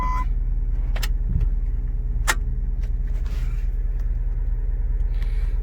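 A 2009 car engine idles steadily after a fresh oil and filter change, with a low continuous rumble throughout and a few faint clicks and ticks over the hum.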